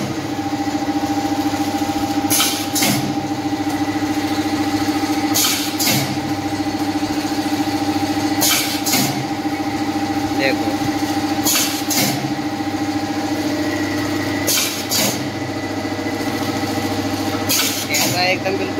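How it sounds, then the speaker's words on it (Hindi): An automatic snack-pouch packing machine at a puffed-snack plant runs under its own power, giving a steady mechanical drone with sharp, hissing bursts every few seconds. Someone talks over the machinery. "ऑटोमेटिक चल रही है, देखिए अभी मशीन को ना किसी ने पकड़ रखा है ना किसी ने कुछ कर रखा है, ऑटोमेटिक चलेगा ये।"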